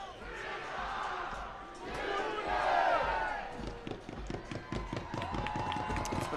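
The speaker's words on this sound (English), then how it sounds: "It's been another good crowd and good atmosphere here at Cardinale Stadium in Seaside." Stadium crowd at a Monterey Bay FC versus El Paso Locomotive FC soccer match at Cardinale Stadium in Seaside, a broad roar swelling in the middle, then choppy claps and shouts over steady crowd noise.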